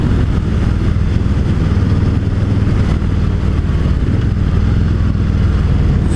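A 2018 Harley-Davidson Street Bob motorcycle rumbles loudly while being ridden, a steady, close, throbbing engine drone with wind roar and no pauses.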